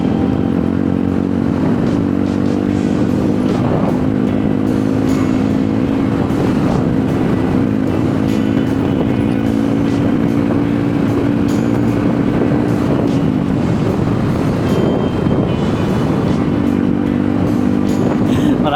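Motorcycle riding on a road trip through Davao del Norte, a steady droning engine hum with shifting pitch and heavy wind rush throughout, loud and close.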